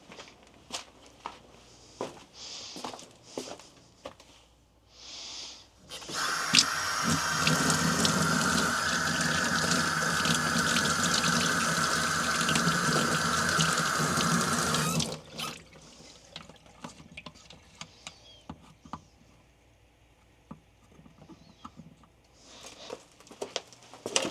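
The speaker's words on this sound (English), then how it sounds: "Let's go wash this paintbrush out." Water runs steadily from a tap for about nine seconds while a paintbrush is rinsed out in a workshop sink, a loud continuous splashing gush with quieter handling noises before and after.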